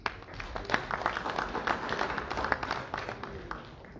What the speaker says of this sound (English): Please give yourself a round of applause for that.